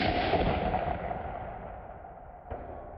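A 6.5 Grendel rifle shot is played slowed down to 70%, a deep drawn-out boom that slowly decays, followed by a smaller thump near the end; no one speaks.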